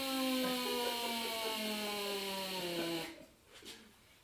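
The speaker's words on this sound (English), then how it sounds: "You got to hear the belt sander running by itself." An air compressor bleeds down and drives a belt sander on its own, giving a loud, whirring mechanical whine that slowly drops in pitch before cutting off abruptly, followed by faint rustles.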